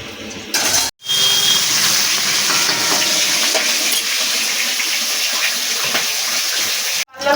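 Japanese puti fish frying in hot oil, heads browned, producing a loud continuous hissing sizzle with two brief dropouts near the start and end.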